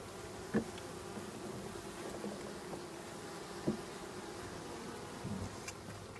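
Honey bees buzz outside a beehive, a steady close hum with a few louder passes as single bees fly near, heard alone and without voices.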